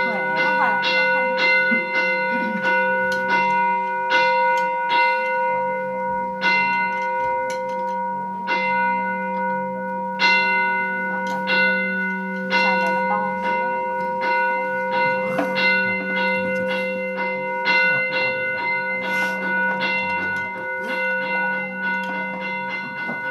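During a ritual at a Vietnamese temple, a bell is struck over and over in an uneven rhythm. Each bright, ringing strike overlaps the next, and faint voices sit underneath.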